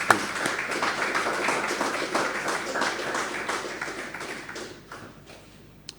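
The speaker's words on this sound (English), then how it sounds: "So a round of applause to everybody" Applause at a graduation ceremony for an apiculture course: a dense, steady crowd clapping that holds for several seconds, then thins and fades out.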